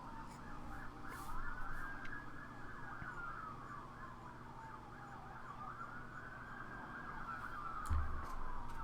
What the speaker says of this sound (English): Those sirens aren't for me